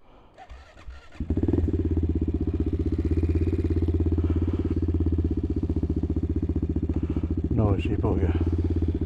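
A CCM Spitfire motorcycle engine starts up and settles into a loud, steady idle close by, with a brief voice heard near the end.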